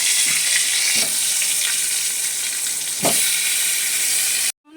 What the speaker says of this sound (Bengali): আমি মাংসের আলুগুলা ভেজে নিচ্ছি